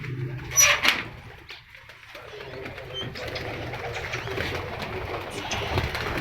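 A pigeon cooing inside an aviary net, a prized flying-breed female, with soft coos and a brief burst of wing flutter early on over a low, steady background hum.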